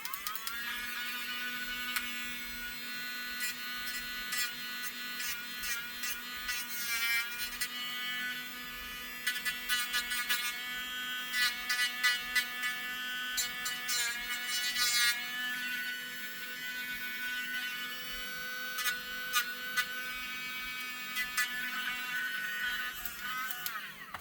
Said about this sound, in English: We're going to grind off this little nub on this guy's helmet.